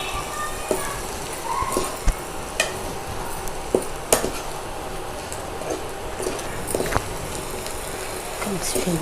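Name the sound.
stirring in salt and turmeric for garelu pulusu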